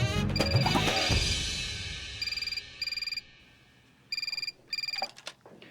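A telephone in a busy police station rings in four short bursts of rapid electronic trilling, each about a second long with pauses between, after a swell of dramatic music fades out.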